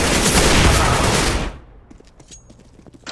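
Loud, rapid automatic gunfire from a Counter-Strike match rattles for about a second and a half, then cuts off, leaving faint scattered clicks and quiet game sounds.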